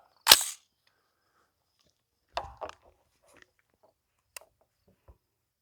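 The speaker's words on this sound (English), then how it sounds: "So first up, M193 out of a 20-inch barreled AR-15." An M193 round fired from a 20-inch barreled AR-15 strikes a ceramic Level IV body armor plate with one sharp, loud crack, followed by a few faint scattered clicks and taps in near silence.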